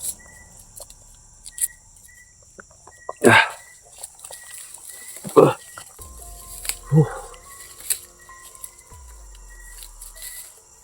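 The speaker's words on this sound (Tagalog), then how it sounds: "Yung tahol ng mga aso." Dogs bark in a rural yard in the Philippines, a few sharp barks at separate moments with chickens around, and a steady chorus of crickets and insects in the background.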